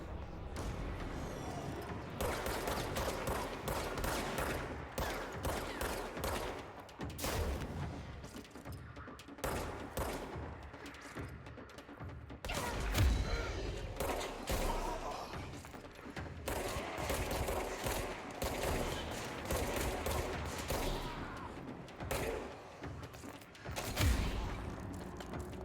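Rapid bursts of gunfire in the action video game Control, crackling volleys repeating through the stretch with mechanical clicks between them, steady and close with no voices over it.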